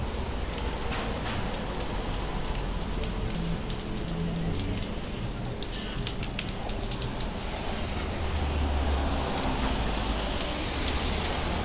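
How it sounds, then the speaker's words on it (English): Steady rain falls on a New York City street, a dense even hiss of drops spattering pavement, with faint low traffic rumble underneath and no talk. "it doesn't matter if it's raining hard"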